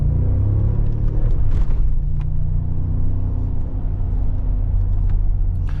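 A 2025 Mercedes G63 AMG facelift with its V8 engine driving on a road through tight curves, a steady deep low rumble from the cabin, close and fairly loud, swelling slightly as the throttle is pushed.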